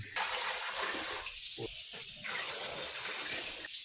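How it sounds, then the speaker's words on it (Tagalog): Water gushes steadily from a tap into a cooking pot of meat being boiled, a loud continuous splashing pour lasting a few seconds. "Lalagay muna tayo ng tubig."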